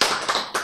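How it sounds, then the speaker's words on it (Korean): Brief burst of audience clapping at a church lecture, a short dense patter of many hands lasting under a second, close and fairly loud with no voices. "박수."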